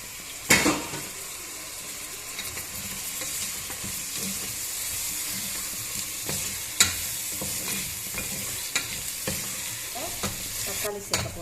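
Tomatoes and onions sauté in a pan for a Chennai-style Ya Mohideen chicken biryani, with a continuous loud sizzle and frequent scraping, clattering stirs of a utensil against the pan throughout.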